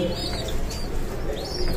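Pet pigeons cooing in a loft, soft steady low murmurs running through the whole moment with faint bird chirps and a little wing movement nearby, no talking.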